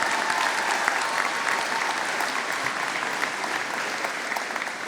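A large crowd at a commencement ceremony applauds graduates steadily, many hands clapping in a dense, even wash of sound that holds for several seconds.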